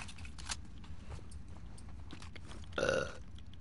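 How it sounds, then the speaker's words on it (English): One short burp lands near the end over faint game background sounds, preceded by a few soft clicks and rustles. "Oh, man, my burps."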